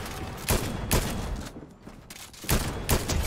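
An auto shotgun fired from the hip in a video game: loud, booming shots in an uneven rhythm, roughly five blasts with short gaps between them, close and alone.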